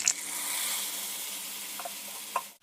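Potatoes fry in a pan as spices go in, giving a steady soft sizzle with a few light stirring scrapes, no voices, before the sound cuts off at the end.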